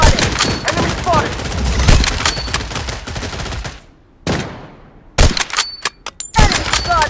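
Gunfire in the video game BloodStrike: bursts of rapid automatic shots and single cracks, loud and close, with a short quiet gap midway, then more sharp shots and a game voice callout.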